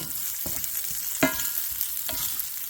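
Potatoes and mint sautéing in a hot pan, a steady close sizzle of frying with a few scraping stirs of a utensil.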